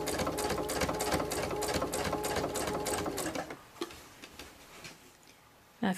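A sewing machine stitches a tote bag in a fast, even run of rapid ticking for about three seconds, then stops, leaving a few light clicks and handling noises.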